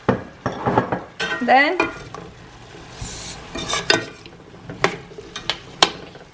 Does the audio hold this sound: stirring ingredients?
yes